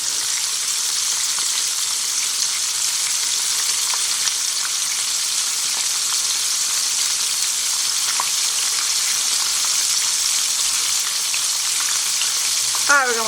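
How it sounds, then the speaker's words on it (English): Chicken frying in hot oil at around 316 to 350 degrees, a steady loud hiss and crackle of sizzling fat that continues unbroken, with a faint clink near the end. "I'm frying up so much chicken"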